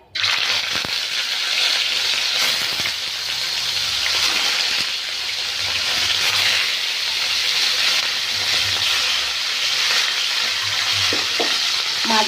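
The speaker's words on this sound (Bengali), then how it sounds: "মাছগুলো আমি খুব একটা ভাজবো না, হালকা করে মাছগুলো ভেজে নেব" Pieces of katla fish frying in hot mustard oil, a loud, constant sizzle with occasional stirring and scraping clatter, close and without talk.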